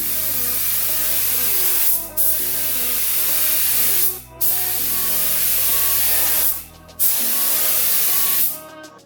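A spray gun lays clear coat onto a car headlight in long, loud, steady hissing bursts of about two seconds each, separated by brief pauses, close up and with no talking.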